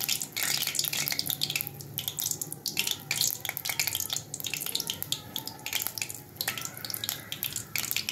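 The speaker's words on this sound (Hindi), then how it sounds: "ये ऑयल गरम हो गया है और बस इस तरह से हम इनको एक एक इसमें डालते जाएंगे।" Chicken zinger strips are dropped one at a time into hot oil and sizzle in a steady, close, crackling hiss with brief louder bursts throughout.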